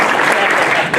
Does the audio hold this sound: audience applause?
yes